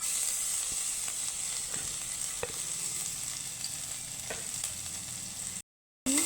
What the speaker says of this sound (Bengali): আদা লঙ্কাটাকে একটু হালকা ভেজে নেব